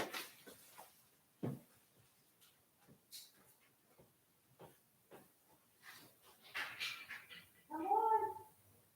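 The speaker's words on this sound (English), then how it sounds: "I keep hearing my cat." A cat cries outside, wanting to come into the house, with a loud drawn-out meow near the end after scattered soft knocks, clatter and rustling.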